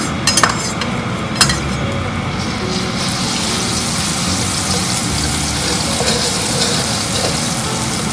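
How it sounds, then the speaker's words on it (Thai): Garlic mixed with salt goes into plenty of very hot oil: a few metal clinks of utensils against the pan, then a loud, continuous close sizzle that holds steady to the end. "พอเราคลุกกระเทียมกับเกลือได้ที่แล้ว เดี๋ยวเราจะนำไปทอดกันค่ะ ใส่น้ำมันเยอะหน่อยนะคะ"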